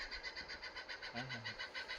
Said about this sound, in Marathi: पहा पक्षी